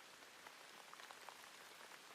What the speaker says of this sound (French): Aujourd'hui, c'est un jour de pluie.